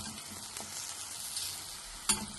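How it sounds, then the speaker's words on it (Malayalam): Ripe banana pieces fry in oil in a kadai with a soft, steady sizzle, broken by a few stirring scrapes and one sharper clack near the end. There is no talking. "ഈ പഴം ഇതുപോലെ മുറിച്ചിട്ട് കടായിലേക്ക് ഇട്ടിട്ടുണ്ട്"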